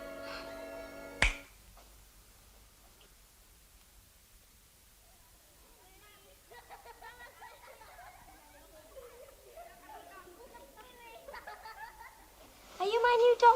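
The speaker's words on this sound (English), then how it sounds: "When I snap my fingers, you will wake up" A single crisp finger snap rings out early, sharp and close in a quiet room, followed by near silence and then soft speech.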